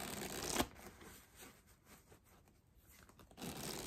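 Cards of a black 007 Casino Royale Cartamundi playing card deck are shuffled, a loud riffle burst at the start and near the end with softer card rustling in between, close and without talk.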